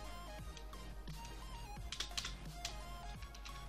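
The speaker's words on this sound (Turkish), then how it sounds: "Umarım klavye sesi pek fazla gelmiyordur. Çünkü mikrofon klavyeye biraz yakın." Quiet, scattered clicks of a computer keyboard typed close to the microphone during a Roblox game, with faint game music playing underneath.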